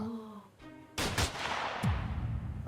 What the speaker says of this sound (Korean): 1918년 8월에 레닌은 괴한의 습격을 받아서 총알 2발이 어깨와 턱을 관통하게 됩니다